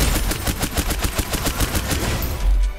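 Rapid automatic gunfire in the video game Snowbreak: Containment Zone, a loud, steady stream of sharp shots fired in quick succession with a heavier burst near the end; no talking.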